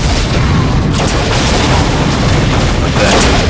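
Grenades explode in a multiplayer match of the video game Unreal, producing a loud, continuous wash of booming blasts with a few sharper bursts layered throughout.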